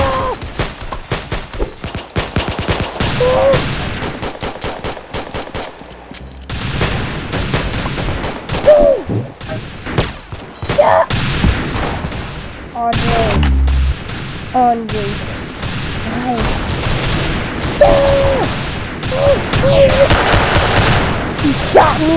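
Rapid gunfire bursts and sharp shots from the video game Arsenal ring out repeatedly over game music and effects, with a player talking excitedly over much of the action.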